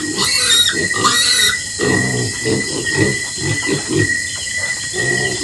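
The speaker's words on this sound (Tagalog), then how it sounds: "At ito po yung mga baboy na ating pupurgahin mga ka-idol." Eleven pigs awaiting ivermectin deworming squeal and grunt loudly up close, with high shrieks early on and then a run of rhythmic snorting grunts over a constant background whine.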